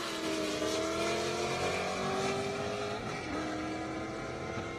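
At an airstrip drag race, a Corvette and a Camaro sit on the line, their engines droning loud and steady and rising slightly in pitch, with a faint tire squeal and no talking.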